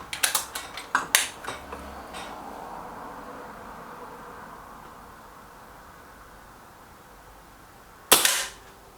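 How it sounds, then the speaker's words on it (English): Kral Puncher Maxi air rifle shot on a range, one sharp close report near the end, preceded by a cluster of quick mechanical clicks from handling and adjustments, with quiet room ambience between. "give it a second shot for the puncher Maxi"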